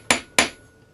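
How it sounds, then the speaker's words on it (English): A jeweler's hammer strikes a metal chain loop twice to flatten it, each blow a sharp, bright, ringing clank that decays quickly, the two hits close together and loud. "use a slightly rounded end of a planishing hammer or a jeweler's hammer and hammer that to half its thickness"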